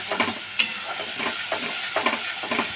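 A spice paste of ginger and cumin, loosened with a little water, sizzles steadily in a pan while a spatula scrapes and stirs it in regular strokes, close and clear.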